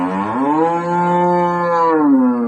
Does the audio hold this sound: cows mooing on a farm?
yes